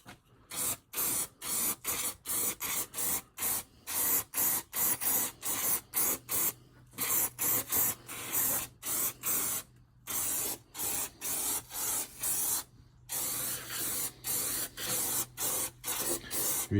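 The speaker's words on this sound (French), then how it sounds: "on va mettre un coup de silicone en spray" Silicone spray hisses from an aerosol can onto a motorcycle tire in rapid repeated bursts, each short spurt separated by brief gaps, fairly close and steady.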